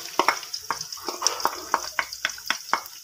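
Onions dropped into hot oil in a pan and stirred, giving a steady bright sizzle broken by regular scraping strokes about every quarter second, close and fairly loud, with no talking.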